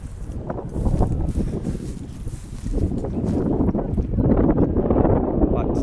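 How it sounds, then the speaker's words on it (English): Strong wind blows across a hillside slope in windy flying conditions, a loud continuous buffeting roar against the microphone with gusty surges, with some talking mixed in. "So the wind's about probably about 30 degrees cross on this slope."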